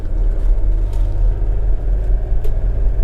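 Mercedes 300TD diesel wagon under hard acceleration on a track, a steady deep engine rumble and drone holding loud and close throughout without pause.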